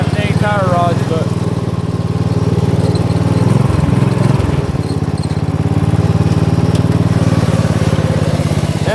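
Small engine of a black offroad Murray vehicle idling and running steadily up close, a loud continuous chugging drone with a brief dip midway, while people talk over it.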